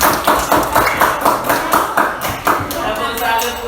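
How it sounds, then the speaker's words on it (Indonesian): A classroom group claps hands in rhythmic bursts, roughly a dozen tapping beats close by, for two student groups, with voices and chatter mixed in. "Tepuk tangan dulu buat kelompok 2 dan kelompok 1."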